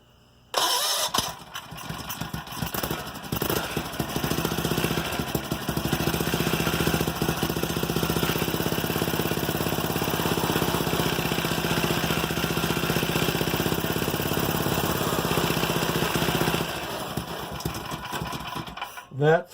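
A homemade go-kart engine starts, catches and runs at a steady mid-pitched buzz for about fifteen seconds before cutting off, loud and close.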